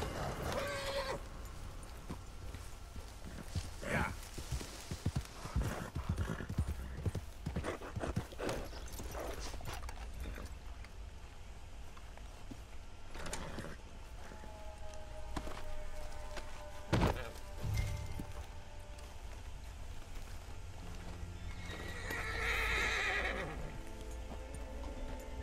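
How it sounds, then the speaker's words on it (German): Horses in the Red Dead Redemption video game whinny and neigh while hooves clop over the ground, with scattered thuds and footsteps and a loud whinny near the end. "Wo ist denn dein blödes Pferd?"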